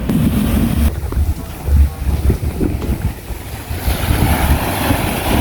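Strong sea waves roll at Hajodae beach, a continuous rough surf roar heavily buffeted by wind on the microphone, loud and close with no voices over it.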